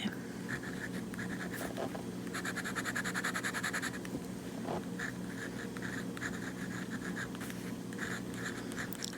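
Pen nib scribbling on paper card while testing shimmer ink, a steady close scratchy rasp that continues for several seconds with brief pauses and bursts of faster strokes.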